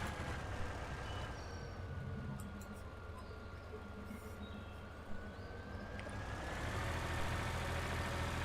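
A tractor engine idles a little way off in a field setting where beets are loaded, a faint, steady low drone with a thin whine running through it.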